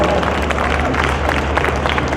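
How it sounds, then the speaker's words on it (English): A crowd at a cannabis convention gives a steady, loud wash of applause with some cheering mixed into the continuous clapping. "A round of applause."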